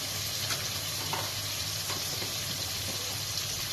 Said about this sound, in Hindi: इन सब मसालों को हम अच्छी तरह भून लेंगे।